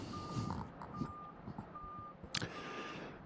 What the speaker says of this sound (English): You can hear the beeping of the